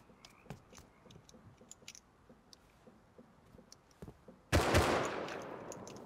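Gunfire in a multiplayer PvP shooter game: a few faint clicks and taps, then a sudden loud burst of rapid shots that stays dense and harsh to the end.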